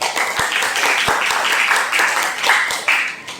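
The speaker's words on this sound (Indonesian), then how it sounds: "tepuk tangan dong" A small classroom audience claps in a steady patter of handclaps, close and moderately loud, with a few sharper individual claps standing out, ending without any talk.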